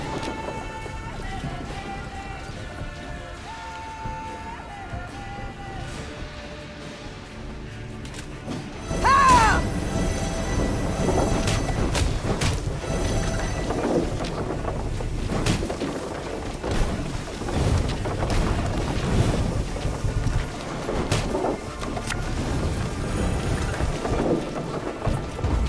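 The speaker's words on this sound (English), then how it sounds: "The storm is coming. Let's enjoy the weather while we still can." A thunderstorm in the video game Thronebreaker: The Witcher Tales: quiet tonal music gives way to loud, steady rain with rolling rumbles of thunder that continue to the end.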